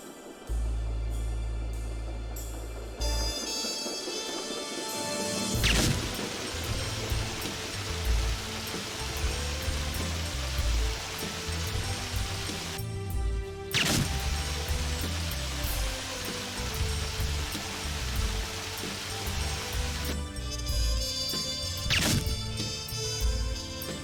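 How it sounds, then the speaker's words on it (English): A whiskey barrel hit by gunfire in TimeSplitters 2's Chicago level, with sharp impact cracks followed by a steady rushing, spattering stream of leaking liquid under game music. "If you shoot a whiskey barrel on the Chicago level,"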